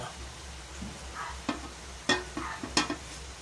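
Hot cooking oil in a pan sizzles faintly as ginger is sautéed for pork sinigang with jackfruit, with soft crackles and a few sharp pops and spatula scrapes over a low background hum.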